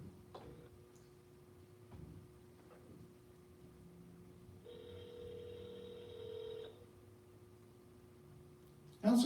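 A telephone call being placed, with faint tones and ticking on the line and one sustained ring-like tone midway, quiet and distant, followed by a sudden loud burst at the end.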